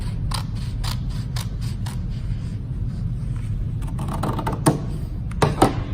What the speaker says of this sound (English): And I'm just going to cut a strip like this.